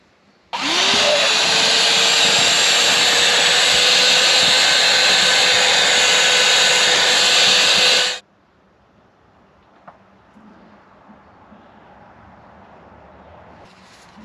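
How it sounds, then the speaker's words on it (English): A small hoover vacuums out debris around a Land Rover fuel tank during a fuel sender replacement, a loud steady whine that starts abruptly, runs about seven seconds and cuts off to quiet. "So I've got a small hoover with me, so I'll give that a quick go"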